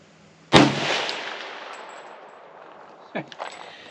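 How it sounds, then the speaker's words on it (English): A single loud 300 Ham'r rifle shot firing a Hornady 125 grain load at a range, a sharp close crack with a long decaying echo, followed by a couple of faint metallic clinks of ejected brass. "So we'll shoot the middle left target now."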